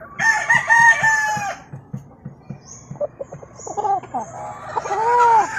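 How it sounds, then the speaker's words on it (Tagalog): A Boston Roundhead gamecock crows nearby in a backyard in Cebu, a loud drawn-out cock-a-doodle-doo, followed by further clucks and a second crowing phrase. "Yan ang Boston Roundhead galing kay Buya din dito."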